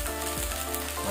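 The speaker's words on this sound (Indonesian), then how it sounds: "kita kasih kecap bango" Fried rice sizzles loudly in a hot pan as Bango sweet soy sauce is poured in, a dense continuous crackle heard up close with no one talking.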